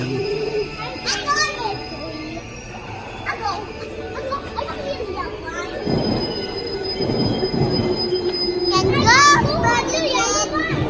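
A train's wheels squeal in high, sustained metallic tones as it rolls into a station in Osaka, with children's voices and chatter mixed throughout.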